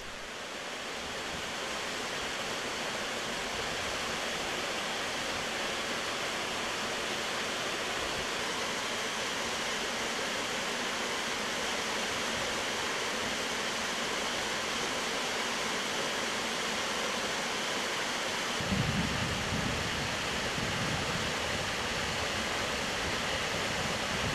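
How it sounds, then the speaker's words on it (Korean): Ssangyong Falls, a twin waterfall whose two streams merge into one, roars as a steady, loud broadband rush of falling water with no let-up, a slight swell near the end. "용이 승천하듯 우렁차게 떨어지는 물줄기"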